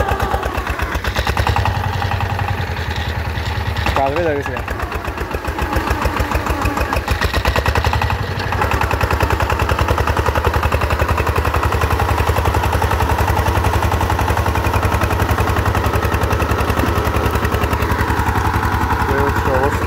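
An ACI 28 power tiller engine labours hard while plowing a grassy, uneven field, its loud rapid chugging and heavy pulsing pressure continuous and close, with a brief spoken remark over it.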